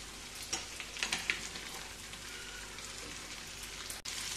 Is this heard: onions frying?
yes